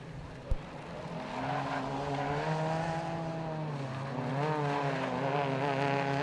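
Rallycross race cars at Mondello Park drone past with a sustained engine whine that climbs and wavers in pitch through the run, after one sharp click near the start.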